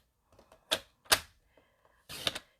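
Several crisp snips of scissors cutting green foil, three distinct sharp cuts close by with a short double cut at the end, quiet pauses between them.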